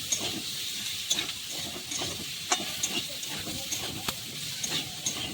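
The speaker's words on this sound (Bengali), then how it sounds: "দিয়ে সব উপকরণ ভালোভাবে মিশিয়ে নিলাম" Ingredients with curry leaves and a little sugar are stirred together in a hot pan, giving a steady soft sizzle broken by light spoon scrapes and taps at an irregular rhythm, near and moderately quiet, with no voices.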